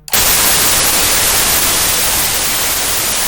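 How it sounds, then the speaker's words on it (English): Steady, loud white noise from the VCV Rack modular synthesizer, a dense, even hiss that sets in abruptly and holds on its own without any voice. "I'm going to take this white noise and I'm going to put this white noise"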